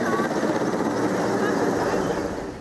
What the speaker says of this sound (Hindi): आकाश में मंडराते MI हेलीकॉप्टर्स ने भी अर्जन सिंह को नमन किया